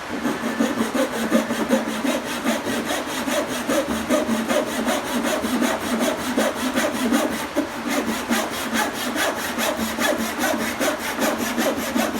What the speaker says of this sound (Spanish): vamos a cortarla apoyando el serrucho por el lado izquierdo